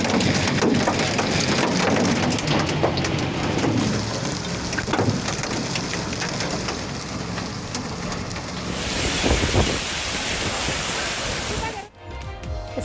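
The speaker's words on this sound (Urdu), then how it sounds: "اسلام آباد میں تیز ہواؤں کے ساتھ طوفانی بارش اور ژالہ باری" Stormy rain with strong winds and hail in Islamabad, a loud, dense, continuous roar of heavy rain and gusts pounding surfaces, building slightly near the end before cutting off abruptly.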